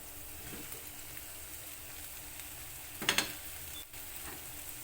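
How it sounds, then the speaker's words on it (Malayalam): Broccoli being stirred with chopped onion in a pan over a medium flame, a soft steady sizzle with a brief louder scrape-and-stir burst partway through, heard alone at low volume. "ഇതൊന്ന് ഇളക്കി കൊടുക്കാം."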